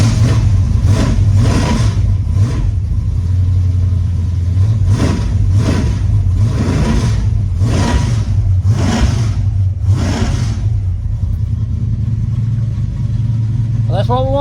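A custom Ford Mustang's engine cranks and catches, then revs in a series of roughly ten loud, evenly spaced blips over a rumbling idle, close to the microphone; a person talks briefly.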